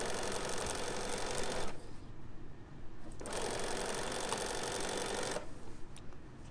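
A sewing machine stitches fabric strips for a bag, running in two long bursts of rapid needle whir with a brief pause between them, close and steady.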